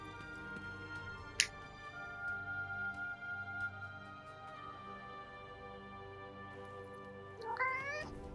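A cat in the Forspoken video game gives one sharp meow and then a longer wavering meow near the end, heard over a steady droning musical background.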